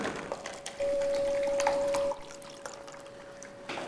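Water is poured from a cup into a container, a faint trickling splash with one sustained steady pour lasting over a second, set among quieter drips and small knocks in a quiet room.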